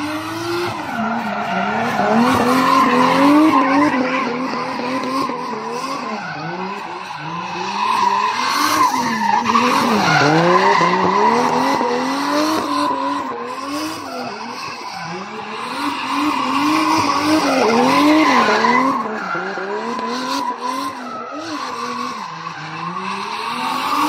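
A 2JZ-powered Nissan S14 drift car at a drift exhibition slides through a test run, its engine wailing up and down while tires squeal and skid in long repeated bursts, loud and continuous without speech.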